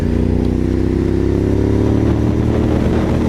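A motorcycle engine runs steadily and loudly up close, a continuous throbbing drone with a rich rumbling hum that holds at an even pitch throughout, with no talk over it.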